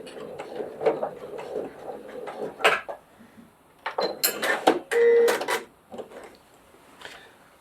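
A domestic sewing machine back stitching along the bottom edge of a fabric glasses case, whirring in short bursts with pauses and fabric handling between runs.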